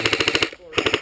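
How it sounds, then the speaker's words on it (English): Airsoft guns fire rapid bursts in woodland, two close, loud strings of evenly spaced shots separated by a brief pause. "Fire and we move to a different spot. Start firing at him through there."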